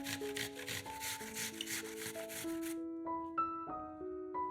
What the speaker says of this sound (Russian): Подготовленные яблоки трем на крупной терке.